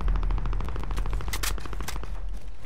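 Rapid automatic gunfire in Call of Duty: Modern Warfare multiplayer, a continuous stream of close, loud shots with a second weapon briefly joining, no talking.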